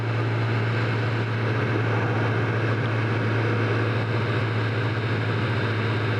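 A Kawasaki ZX10R sport bike ridden at low speed along a city street gives a steady, loud engine drone with constant wind rush and no voices.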